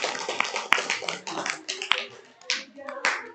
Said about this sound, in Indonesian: Oke, tepuk tangan untuk Bima.